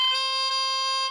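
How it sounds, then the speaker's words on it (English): A lone oboe reed crows a single steady, reedy, buzzing tone pitched on a sharp C, held for about a second before cutting off. "It's got a crow that is quite a sharp C."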